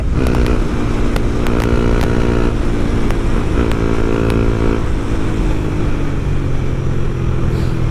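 A low-cc motorcycle engine runs close by, loud and steady with a rumbling idle and a few sharp revving bursts early on, no talking.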